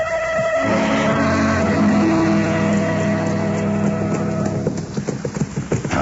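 Hooves clip-clop in a steady rhythm as a horse is ridden in an old radio drama. A dense music bed sits over the hoofbeats until the end, where the hooves come through more plainly.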